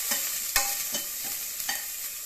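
Shallots sautéing with rock salt in a pan for mutton rib bone soup give a steady soft sizzle, with a few louder stirring scrapes and taps at irregular intervals, no talk.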